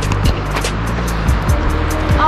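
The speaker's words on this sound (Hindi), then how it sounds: "आ रही है गाड़ी।" A car approaches on a road, with a steady low rumble of engine and tyres building under brief background voices and scattered street noise.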